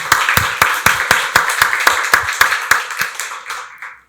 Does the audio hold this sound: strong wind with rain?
no